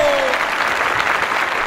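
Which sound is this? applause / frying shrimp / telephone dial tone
applause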